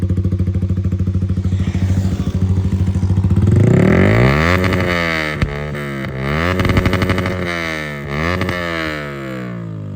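Yamaha R15 V3 motorcycle exhaust, idling with a steady pulsing thrum before several sharp revs rise and fall in pitch, loud and close with no talk.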